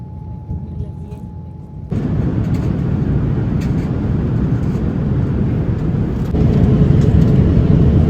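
Steady broadband airliner cabin roar during a Delhi to Tokyo flight in a 3-3-3 seating layout, a constant engine and air rush that jumps louder after a quieter opening and swells again near the end, with no talk.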